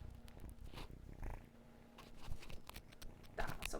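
A pet cat named Newt, a five-week-old rescued kitten, purrs in a steady low rumble close by, with soft shuffling and handling noises around it.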